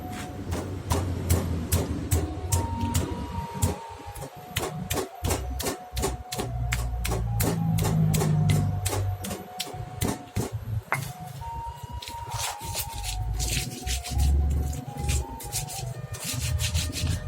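Spices and salt for a Minang jengkol curry are ground by hand until smooth, a rhythmic scraping and rubbing of stone on stone repeating in quick strokes, close and moderately loud, with short pauses between bursts.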